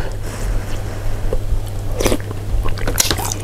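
Someone eating Chinese snail rice noodles (luosifen), with a few soft slurping, squishy chewing bites at close range over a steady low hum, and brief speech nearby.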